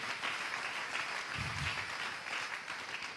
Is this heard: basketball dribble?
no